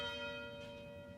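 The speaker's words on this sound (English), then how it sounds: "The University Tower chimes" A university tower bell rings one sustained, resonant chime with a long humming overtone decay, clear and fairly soft, with no voices.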